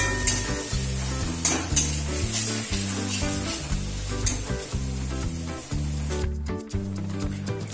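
Dried fish (shutki) sizzles and fries steadily in a pan with ground onion, ginger and garlic paste, a continuous close hiss running under rhythmic background music throughout.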